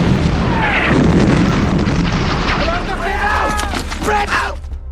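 A tank's main cannon fires in a booming blast amid dense movie-style battle noise, with heavy low rumble throughout and short bursts, shouts and debris sounds layered on top.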